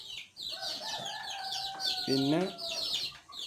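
Large backyard hens cluck close by in a small home flock, a rising burst of clucks and squawks against outdoor background noise, with a brief spoken word from a person nearby.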